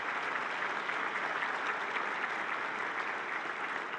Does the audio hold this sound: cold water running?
no